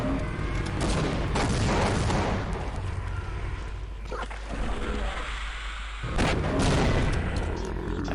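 Dense, sustained gunfire and booming weapon blasts from the Half-Life video game, loud and continuous across the whole stretch with a brief dip before erupting again.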